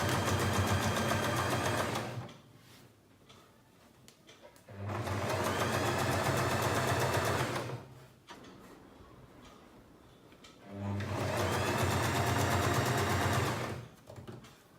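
A sewing machine stitches a churidar neck in three loud, close bursts of rapid mechanical whirring and clatter, each about five seconds long, with quiet pauses between.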